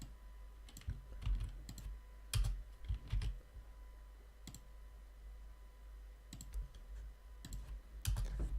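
Bursts of computer keyboard typing while code is entered, short clusters of clicking keystrokes separated by pauses, close and fairly quiet over a low steady hum, with no talking.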